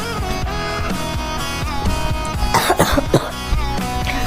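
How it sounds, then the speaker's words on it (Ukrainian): A few sharp coughs burst out over a steady background of Brawl Stars game music with sustained tones, close and fairly loud. "але ще кашель залишився"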